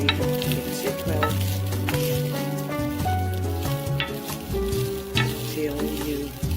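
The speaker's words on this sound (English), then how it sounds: "So you mix it well" Basmati rice stirred and broken up in a pan over low heat, with steady soft sizzling and frequent scraping and clinking of a utensil against the pan, close and continuous with no talking.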